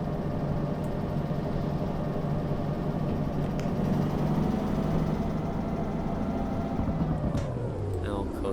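A locomotive engine in the train game Derail Valley runs under throttle with a steady, dense low rumble and drone, held at constant power and close.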